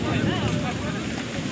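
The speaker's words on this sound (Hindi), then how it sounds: "अभी पूरा जोर से हवा चल रहा है ना" Strong wind gusting outdoors at a village fair during rainy weather, a loud continuous rushing roar buffeting the microphone throughout.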